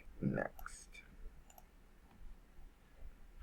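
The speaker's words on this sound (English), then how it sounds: "And then you click next." A few faint, sparse mouse clicks on a computer while selecting captcha squares, with a brief bit of voice near the start.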